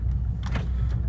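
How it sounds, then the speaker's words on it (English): A car's power window motor whirs briefly, lowering the window just a little, over a low steady rumble inside the vehicle. "crack my windows a little bit because it's getting hot"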